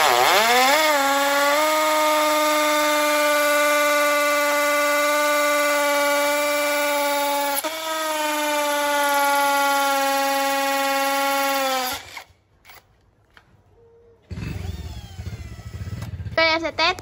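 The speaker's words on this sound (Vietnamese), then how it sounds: "Em sẽ khoan gạch cho bác xem luôn ạ." A Hukan 533 cordless drill drilling into brick gives a loud, steady high-pitched whine. It runs continuously for about twelve seconds with one brief dip, then cuts out into short bursts and rattling.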